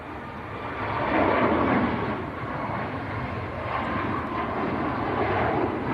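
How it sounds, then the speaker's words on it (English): A TUI airliner rolls down the runway for takeoff at Manchester Airport, a broad distant roar of jet engines swelling and holding steady. "TUI on the roll, just about to get airborne"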